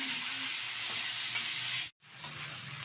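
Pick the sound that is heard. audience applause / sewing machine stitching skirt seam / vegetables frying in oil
vegetables frying in oil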